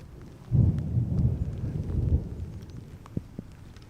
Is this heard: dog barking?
no